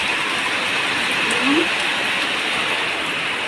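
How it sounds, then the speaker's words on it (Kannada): Heavy rain falling outdoors, a dense, steady hiss that stays loud and unbroken throughout, with a brief faint tone passing underneath. "ಇವತ್ತು ಫುಲ್ಲು ಮಳೆ ನೋಡಿ ಬುಟ್ಟಿ ತುಂಬಿ ನೀರು ಹೊಂಟೈತೆ"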